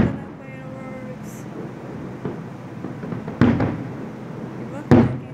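National Day fireworks over Jeddah, Saudi Arabia, with a couple of sharp, fairly distant booms rising out of a steady crowd murmur, and a voice speaking early on.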